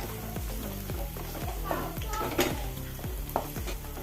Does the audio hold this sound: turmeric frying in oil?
yes